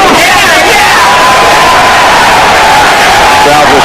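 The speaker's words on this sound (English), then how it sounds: "Crowd responding." A packed arena crowd roars through a heavyweight boxing fight, a loud, continuous wall of cheering, whoops and yells with babbling voices throughout and no pauses.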